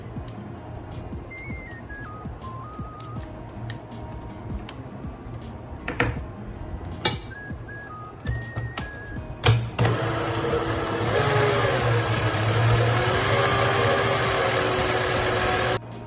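An electric mixer beats butter cake batter in a home kitchen, starting with scattered clinks and scraping before settling into a loud, steady motor whine for the last several seconds.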